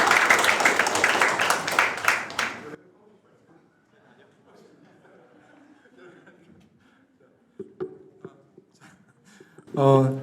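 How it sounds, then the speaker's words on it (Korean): Audience applause for students presenting at the 13th Jeonnam Youth History Inquiry Contest: loud, dense clapping for under three seconds, then quiet room murmur, faint voices and a brief vocal sound near the end. "저희 대회 목적에 맞게 새롭게 제안을 해주신 우리 두 분의 학생들에게 큰 박수 보내드리겠습니다."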